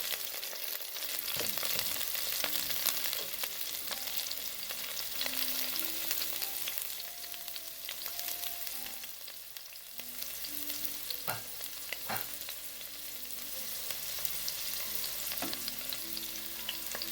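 Garlic frying in a pan on a stovetop over medium heat for a chickpea and saltfish stew, giving a steady, close sizzle with occasional stirring clicks throughout and no talk.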